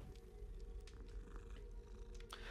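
A cat in Hogwarts Legacy purrs softly and continuously, a low rhythmic rumbling heard faintly and close, with a few light incidental sounds over it and no talking.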